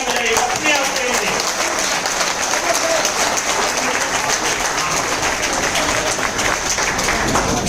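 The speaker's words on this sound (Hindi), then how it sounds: "एक बार अपने आप के लिए जोरदार तालियां बजाइए, अपने आप के लिए।" Large training-event audience in Ahmedabad clapping loudly and continuously, a dense, sustained wash of applause close to the microphone with no pause.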